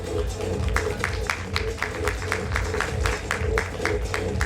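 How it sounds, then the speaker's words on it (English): Audience applause at a panel event on skill-first organizations, a steady patter of many hands clapping in a hall, moderately loud and continuous, with a low hum of music or murmur underneath. "A big round of applause."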